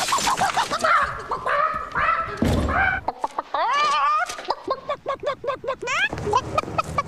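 Clucking chicken sounds from a Burger King Chicken Whopper TV commercial come in a busy, choppy run of bursts and squawks, mixed with voices and other sharp effects throughout.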